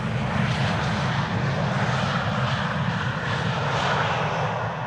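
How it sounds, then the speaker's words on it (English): A Dash 8 turboprop airliner at Amsterdam Schiphol Airport, its engines making a steady, broad, distant roar that holds evenly throughout with no talking. "I am pretty sure that I am hearing propellers emanating from the distance."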